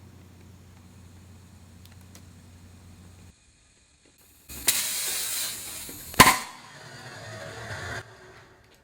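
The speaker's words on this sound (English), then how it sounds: "Let's go for broke and see what my boost leak tester can handle." Boost leak tester pushing air into a turbocharged DSM car's intake system, a steady hiss of pressurizing air building over a few seconds with a sharp metallic snap partway through, after a quiet low hum.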